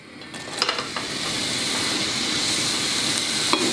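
Onion sizzles in melted butter in a pan, a broad steady hiss that builds and then holds, with a few spoon clinks and stirring knocks near the start.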